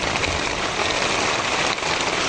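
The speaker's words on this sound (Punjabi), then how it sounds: "ਮੀਂਹ ਬਹੁਤ ਜ਼ਿਆਦਾ ਤੇਜ਼ ਹੋ ਗਿਆ" Heavy storm rain pours down on farm fields in a dense, continuous roar of drops hitting surfaces, close and loud, with no voices.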